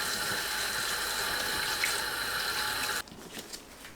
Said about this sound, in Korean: 잎도 3-4번 씻고 체에 펼쳐두세요.